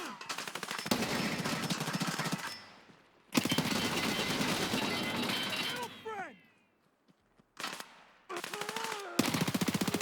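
Rapid automatic gunfire from a video game shooter, loud bursts in long sustained stretches separated by brief pauses, with short whooshing effects and a quieter gap before more firing resumes.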